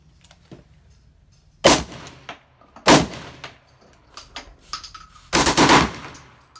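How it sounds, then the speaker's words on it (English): An M2 .50 BMG machine gun fires at an outdoor range, heard as three separate loud blasts or short bursts with sharp echoing tails and some faint clatter and quiet background between them. "50 BMG machine gun."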